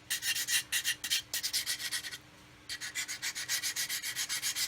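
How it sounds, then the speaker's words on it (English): Rhythmic back-and-forth sanding strokes rub paint off a joint on a 1/24 Airfix F6F-5 Hellcat plastic model kit, close and crisp, in two runs separated by a brief pause. "so don't go sanding that down flush"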